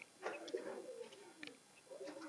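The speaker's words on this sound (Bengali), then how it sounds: "মাশাল্লাহ, খুব সুন্দর এক পেয়ার কবুতর।" A pair of pigeons coo softly and close by after being let out, with several short throaty coos spaced unevenly in a quiet setting.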